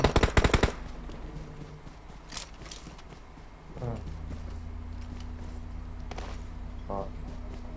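Gunfire in the mobile battle royale game PUBG Mobile, with a fast close burst at the start and a few quieter distant shots afterward over steady game ambience.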